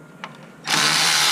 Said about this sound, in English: I'm removing the bolts